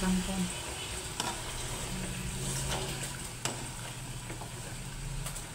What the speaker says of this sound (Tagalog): Igisa lang natin, guys. Andyan ang ating kangkong. Mix lang natin yung ating kangkong.